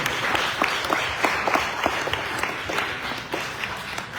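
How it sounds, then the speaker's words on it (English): Audience applause at a Thai Next NYC 2025 event honoring the Alvin Ailey School, a steady wash of many hands clapping with dense, continuous crackle and no one speaking. "please join me in giving a big round of applause to the Alvin Ailey School and the incredible Weo Dao Sirisu"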